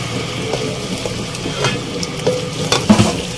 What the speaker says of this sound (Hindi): अब हम इसको चिकन के साथ यहाँ पे भूनेंगे।